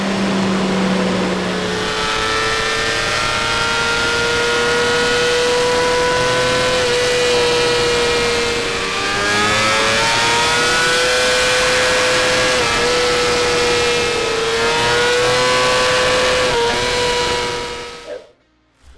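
A BMW M1000 RR superbike runs on a dyno, its engine loud and close in a sustained high-rpm howl with pitch rising and falling in long sweeps before cutting off abruptly at the end.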